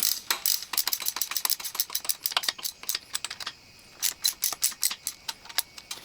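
A ratchet wrench tightens connecting rod cap bolts on a Triumph TR4 engine during a rebuild, giving close, loud bursts of rapid clicking that come in short runs with brief pauses between strokes.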